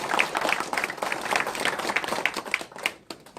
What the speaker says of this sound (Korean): 여러분들 박수 한번 쳐주세요. 힘차게.